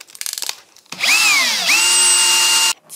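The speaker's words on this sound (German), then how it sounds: "Also, wie es ausschaut, ist das ein Bohrerschärfer." A cordless drill runs a cheap drill-bit sharpener attachment: a few light clicks, then a close, loud whir that spins up quickly, dips and holds a steady high whine for almost two seconds before cutting off.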